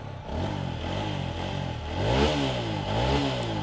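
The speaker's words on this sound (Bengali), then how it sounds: "বাইকের সাউন্ডটা যদি আপনাদেরকে একটু দেখাই" A used TVS 4V X Connect motorcycle engine idles and is revved near the microphone, its pitch climbing and falling in repeated swells, with a louder rev in the middle and no talking.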